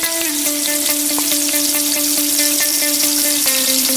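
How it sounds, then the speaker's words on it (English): Onions frying in hot cooking oil in a sufuria for spicy pilau, a steady loud sizzle with crackling pops, accompanied by a sustained tonal hum, probably from the stove or a fan. "You can start frying the onions"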